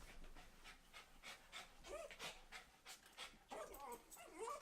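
A panicking pet dog pants rapidly and lets out high, wavering whimpers and whines, close and faint, with some low murmuring in the background.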